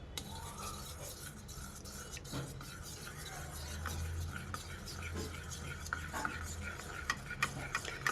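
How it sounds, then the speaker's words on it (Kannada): A mixture of Everest Kashmiri chilli powder is whisked in a bowl, a quiet, steady rhythmic swishing and scraping that runs throughout, with faint clinks and soft rustle near the end. "ಈಗ ಇದು ಚೆನ್ನಾಗಿ ವಿಸ್ಕ್ ಮಾಡ್ಕೋಬೇಕು"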